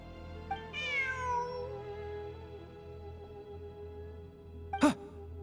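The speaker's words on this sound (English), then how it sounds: "Look, a cat." A cat in Genshin Impact gives a drawn-out, falling meow, with faint ambient game sound behind it and one sharp, brief sound near the end.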